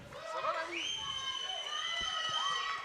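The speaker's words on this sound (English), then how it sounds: "The crowd, I don't know if you can hear them, but they're just right behind us." Crowd at an armwrestling championship, a continuous roar of cheering and shouting voices behind nearby talk, with high-pitched whoops and whistles rising over the steady din.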